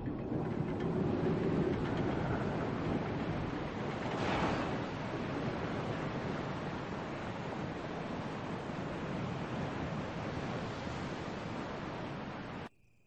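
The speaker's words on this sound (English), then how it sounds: "you can hear the sound of a waterfall in the distance" Steady broadband rush of a distant waterfall in the video game Resident Evil HD, a continuous wash of falling water that fills the whole stretch without pause before cutting off abruptly at the end.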